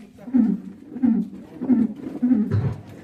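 A person mimics the cooing of a pigeon perched on a plant, with a run of four or five low, throaty coos repeated in an even rhythm, fairly close and moderately loud.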